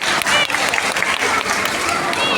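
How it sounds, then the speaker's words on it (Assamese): A school audience claps for young children acting out catching fish with a bamboo trap at a Children's Day event, dense continuous applause close by with voices mixed in. "হাত চাপৰি দিম আমি"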